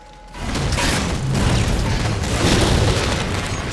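A grenade blast in the video game Halo 4: a loud, sustained boom that rumbles and roars without letting up for several seconds, with no talking over it.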